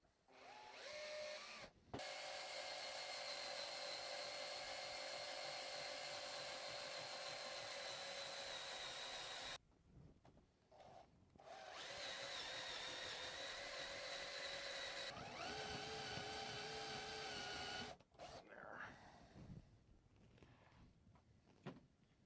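A small power drill, hand-held, whines in long, steady bursts separated by brief pauses, boring a switch hole in a plastic starship model; close and loud, with no talking.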